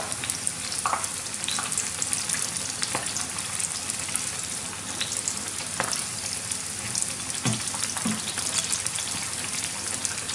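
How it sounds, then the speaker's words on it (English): Onion bhajis deep-frying in oil, a loud, dense, continuous crackling sizzle with scattered pops and a few faint utensil knocks throughout, with no speech. "So just fry them for a few minutes, flip them over a couple of times"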